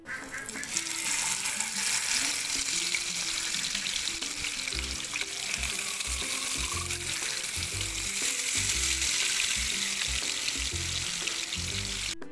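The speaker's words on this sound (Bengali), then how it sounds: "তেলটা মোটামুটি গরম হওয়ার পরে এবার আমি একে একে মাছগুলো দিয়ে দিব" Tilapia frying in hot soybean oil in a home kitchen, a steady close sizzle and crackle lasting throughout with no talk.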